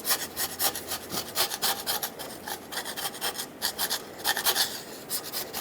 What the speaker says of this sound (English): I'm going to take a razor blade or a gasket scraper